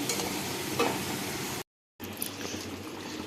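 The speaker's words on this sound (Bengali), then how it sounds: "এই কষা মশলার মধ্যে ভেজে রাখা কাঁকড়া আর আলুগুলোকে আমি দিয়ে ভালো করে কষিয়ে নিচ্ছি" Fried crab and potato pieces being stirred into a thick spice paste in a pan: busy sizzling and scraping for over a second and a half, a brief silent gap, then the frying and stirring resume at moderate loudness.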